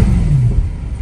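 A car engine of about 520 horsepower rumbles with a brief rising rev, loud and close, alone without talk.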